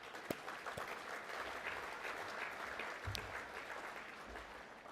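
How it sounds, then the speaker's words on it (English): An awards night audience applauds steadily and fairly faintly, a sustained wash of clapping from a large room with no talk over it. "Give them a round of applause, please."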